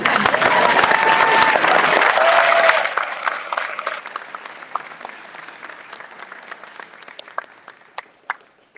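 Audience applause at an awards ceremony, loud full clapping with a few calls at first that thins out after a few seconds into scattered claps tapering off.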